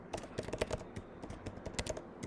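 Fast, uneven keystrokes on a computer keyboard during a programming session, close and clear, with clustered clicks and brief pauses and no voices.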